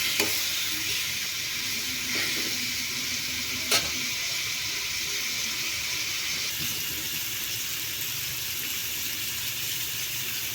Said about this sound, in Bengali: এবার একটু আমটাকে ভাজা ভাজা করব।